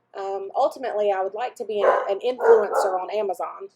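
Dogs bark and yip indoors at a moderate distance, short bursts mixed in under someone talking steadily in the foreground.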